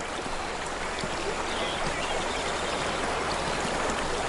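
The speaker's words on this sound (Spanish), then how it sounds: "El torrente de agua arrastra los desperdicios del lecho del río formando una marea espumosa y turbia." A flash-flood torrent rushes down a dry African riverbed, a steady broadband roar of churning water, moderately distant and unbroken, with no voices.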